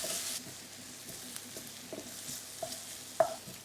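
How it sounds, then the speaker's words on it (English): Soft frying of onion and garlic in olive oil in a pan, quiet sizzle with occasional light taps and scrapes of stirring. "pop in our onion and garlic. And we're just going to saute those until they're soft"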